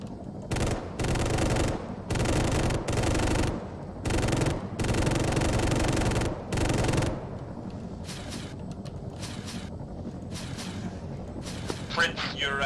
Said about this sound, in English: strike is inbound